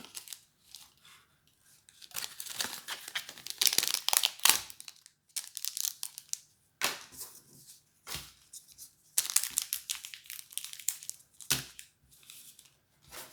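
A foil trading card booster pack from a 2020 Secret Slayers set is torn open by hand, with bursts of sharp crinkling and ripping plastic between short pauses, close and fairly loud, with no talking.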